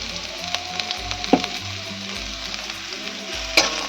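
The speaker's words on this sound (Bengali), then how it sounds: "পেঁয়াজটাও ভেজে নেব আমি, তাতে একটা কাঁচা লঙ্কা কুচি" Chopped onion and green chili fry in a pan with oil, giving a steady close sizzle broken by occasional sharp scrapes of stirring; no one speaks.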